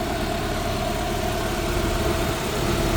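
A 2005 Honda S2000 roadster's 2.2-liter four-cylinder engine idles steadily under the open hood, a close, even hum with no revving.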